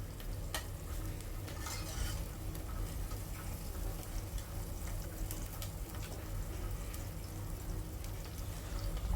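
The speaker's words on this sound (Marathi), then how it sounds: "कांदा तेलामध्ये चांगला करपूस भाजून घेतल्यानंतर" Onion frying in oil in a pan for Maharashtrian masale bhaat, a continuous close sizzle with stirring scrapes and spatula clatter, steady and fairly loud throughout with no talk.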